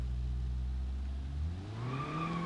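A BeamNG.drive car engine starved of oil, revving: a steady low drone that climbs in pitch as the revs rise toward the end, loud and close with no talking.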